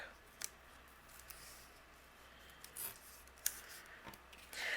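Scissors trim rounded corners off a paper photo frame on white cardstock during card making, giving a few faint, sparse snips and clicks at close range.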